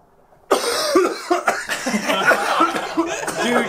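A person coughs harshly several times in a row after inhaling smoke, with chuckling and laughter mixed in close by.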